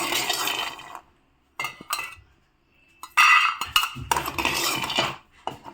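Roasted peanuts for sesame balls are scraped and poured from a pan into a bowl, giving close clattering, rattling bursts broken by short silent gaps.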